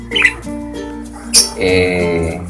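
A breeder pigeon in a loft lets out harsh, close squawks: a short call, a louder sharp squeal, then a longer drawn-out rasping cry.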